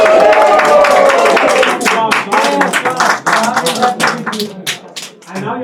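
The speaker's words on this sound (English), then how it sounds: "let's give a big round of applause to Dr." An audience claps at a Women's History Month event, a quick, close burst of uneven hand claps that thins out toward the end.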